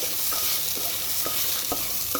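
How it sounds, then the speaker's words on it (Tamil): Crushed turkey berries (sundakkai) sauté in a hot pan, a steady close sizzle broken by several sharp scrapes of a spatula stirring them, with no talking. "இந்த சுண்டைக்காய் வந்து நல்லா அதோட பச்சை வாடை போகிற வரைக்கும் நல்லா வந்து வதக்கணும்."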